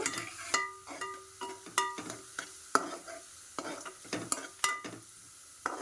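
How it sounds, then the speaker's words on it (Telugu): A pan fry with a pinch of turmeric being stirred in, the spoon scraping and clinking rhythmically against the pan over a soft sizzle. "సో చూడండి బాగా ఫ్రై చేస్తున్నాను, దూరగా వేగుతుంది."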